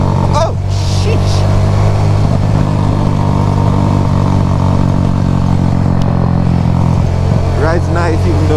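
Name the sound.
motorcycle being ridden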